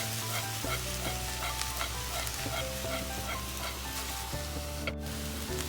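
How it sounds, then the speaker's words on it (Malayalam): Mixed fried rice sizzles loudly in a hot pan while being tossed and mixed, a dense continuous frying hiss with faint scraping, steady and close throughout. "ഇനി ഞാൻ ഈ റൈസ് മിക്സ് ചെയ്ത് കൊടുക്കുന്നതാണ്."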